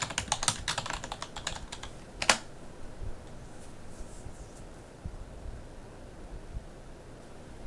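A burst of computer keyboard typing while a password is entered on a freshly installed Debian 13 system: quick close clicks for about two seconds, a sharper final keystroke, then quiet room tone.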